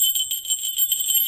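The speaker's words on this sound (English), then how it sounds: "the bell I think was brass too" A small brass bell rings in a quick, continuous jingling tinkle, bright and fairly close, with no voices.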